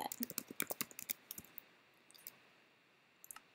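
Rapid burst of close computer keyboard typing in a Minecraft tutorial, a quick flurry of clicking keystrokes for about a second and a half, then a few sparse isolated taps after a pause, faint and alone.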